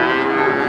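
A Limousin cow moos at the Wagenan cattle market in Pati, giving a single sustained, loud, droning low call that fills the moment.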